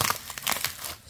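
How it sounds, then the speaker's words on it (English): A plastic bag crinkles as it is opened, giving close, busy rustling and crackling for about a second with no talk. "it's actually in another plastic bag here with some tape."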